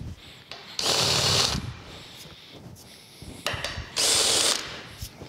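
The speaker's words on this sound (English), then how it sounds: "Use my hand drill just to help that tap get started." A hand drill turns a tap to help get a thread started in a hole drilled and countersunk for mounting a drill on an old mag-drill base. Two loud whirring bursts are separated by quieter clatter and handling noise, with no voices.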